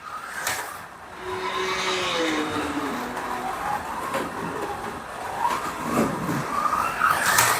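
A BRM Datsun 240Z slot car whirs steadily around the track, its small motor whining and rising in pitch through the straights, with continuous near track noise and faint voices beneath.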